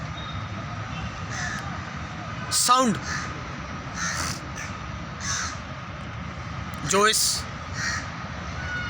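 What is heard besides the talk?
crows cawing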